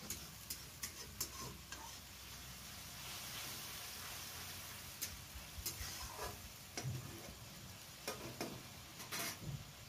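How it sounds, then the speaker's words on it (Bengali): Tomato puree fries and is stirred in a pan while making a Bengali rohu fish curry with potatoes: a steady low sizzle under scattered, irregular scraping and tapping of a spoon against the pan, fairly quiet throughout. "টমেটো পিউরিটা দিয়ে একটু ভালো করে কষিয়ে নেবো"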